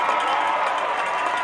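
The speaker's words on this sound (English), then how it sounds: "let's give a round of applause for your Sevier County High School Band" Steady crowd applause for the Sevier County High School Band seniors at a high school football game against Campbell County, a dense, even wash of clapping that holds at full level throughout.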